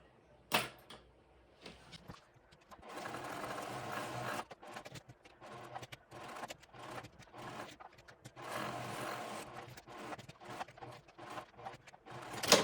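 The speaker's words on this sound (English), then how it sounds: "you're just going to go ahead and stitch around the outer edge of the pocket overlay" Sewing machine stitching around the outer edge of a pocket overlay on a fabric backpack, running in several bursts of rapid mechanical chatter separated by short pauses, close by and moderately loud.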